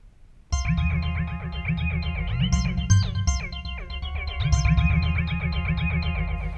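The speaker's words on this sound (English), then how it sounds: "when you get into the C bank, there's also leads." A buzzy, distorted Roland AIRA synthesizer lead plays a busy repeating phrase over a thick low synth line, loud and without voices.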